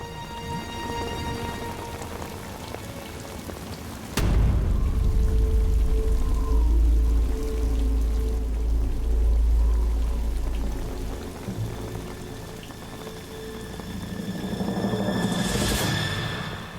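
Torrential rain on a mountain cliff face, a heavy steady roar of pouring water that swells loudly after a few seconds and stays dense throughout, with occasional rumbles.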